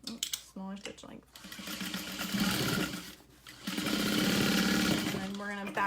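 Sewing machine running in bursts as it stitches vinyl for a tote bag with a 1/2 inch seam allowance and a smaller stitch length, a steady close mechanical whir that stops and restarts, with brief speech between runs.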